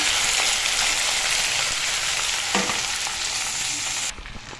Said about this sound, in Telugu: జీలకర్ర, ఆవాలు వేసానండి, వెల్లుల్లి వేసాను, ఎండుమిర్చి వేసాను, బెండకాయ ముక్కలు వేస్తున్నానండి.